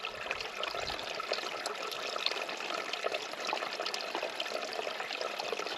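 Water from a clear hillside stream in the Campsie Fells trickles and splashes steadily into a container being filled at a wild camp, a continuous close, bright gurgle with no voices.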